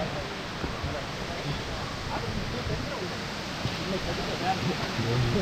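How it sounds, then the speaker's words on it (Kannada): Elaneeru waterfall pours from a great height in a steady, broadband rush of falling water, continuous and fairly loud throughout with no pauses. "ಅಷ್ಟು ದೂರದಿಂದ ನೀರು ಬೀಳ್ತಾ ಇದೆ"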